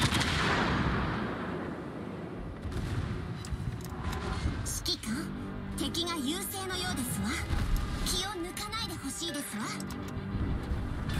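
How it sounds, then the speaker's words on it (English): Battleship secondary guns firing in World of Warships, a run of booming shots under a roaring engine and sea bed, with someone talking over the gunfire. "Immediately fire from secondaries."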